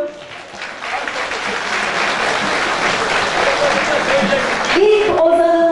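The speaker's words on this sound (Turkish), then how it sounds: "Ve kocaman, coşkulu bir alkış istiyorum." Enthusiastic audience applause at an Alevi poets' (ozan) festival in Istanbul, a dense crowd clapping that swells steadily, with a voice and a brief tonal sound entering near the end.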